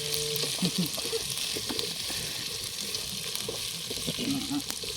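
Chillies and onions sizzle and fry in hot oil for a village-style chicken gravy, a dense steady crackle with occasional stirring, while people talk nearby.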